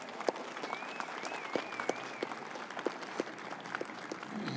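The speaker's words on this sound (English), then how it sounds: "Please give them a round of applause." An audience at a Veterans Day keynote address honoring Purple Heart recipients applauds, with scattered, fairly faint claps from a crowd and a brief whistle partway through.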